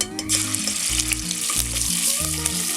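Ginger garlic paste with cardamom, a cinnamon stick and cloves frying in coconut oil for Kochi-style meat rice, giving a steady bright sizzle under tuneful background music.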